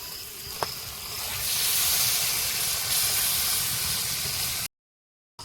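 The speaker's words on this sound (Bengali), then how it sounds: "মাংসটা ভালো করে কষিয়ে নিয়েছি এবারে জল দেবো" Water poured into browned chicken curry in a hot pan sets off a loud, steady hissing sizzle and steam that swells after a brief clack, holds bright and close, then cuts off abruptly near the end.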